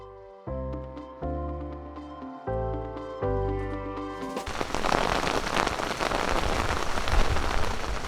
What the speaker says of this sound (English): It's it's raining pretty hard right now, actually.